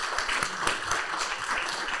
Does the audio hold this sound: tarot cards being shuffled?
no